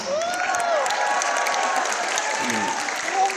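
Audience applause at a women's Islamic study gathering in Chai Wan, Hong Kong, steady clapping from a crowd held at even loudness throughout, with a few faint voices mixed in.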